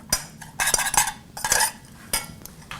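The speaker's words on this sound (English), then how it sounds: "I'm going to add a little bit of paprika and stir that up" A metal utensil stirs paprika into food in a pan, with close clinks and scraping strokes coming in uneven bursts and short pauses between them.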